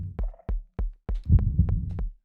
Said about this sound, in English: I think the heartbeat of the game overpowered it enough where I could hear it.